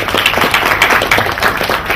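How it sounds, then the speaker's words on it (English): Students and graduates in a conference hall clap together in a sustained, dense round of applause lasting a couple of seconds, with no talking over it. "So give yourself a clap for coming over here to join us."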